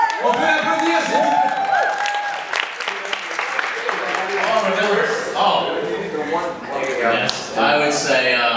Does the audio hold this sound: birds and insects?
no